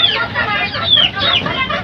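Several chickens cluck and squawk inside a small backyard chicken coop, a loud, close chorus of overlapping calls with brief high rising cries.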